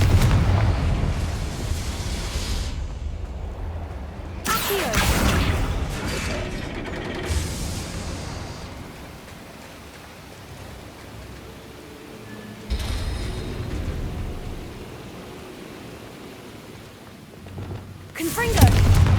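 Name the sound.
Confringo fire-blast spell explosion, Hogwarts Legacy video game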